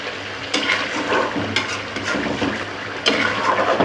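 Tomato chicken karahi stir-fried in a pan, with close, loud sizzling and repeated scraping strokes of a spoon stirring the mixture at an uneven rhythm, no talking.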